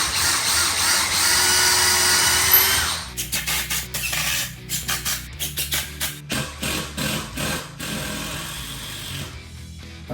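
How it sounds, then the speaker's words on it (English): A power drill drives lag bolts into a wall stud, first a sustained loud whirring, then a series of rapid pulsing bursts as the bolt is worked in, close and without talking. "I'm going to make a pilot hole and just enter my lag bolts."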